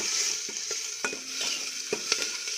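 Mustard seeds and cumin crackle and sizzle in hot oil for tempering, close up, with scattered sharp pops and a few stirring clicks over a steady frying hiss and no talking.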